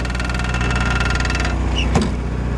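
Arctic dump cat engine idling with warm exhaust, a loud, steady mechanical rumble with an even pulse, running continuously with a brief extra clatter near the end.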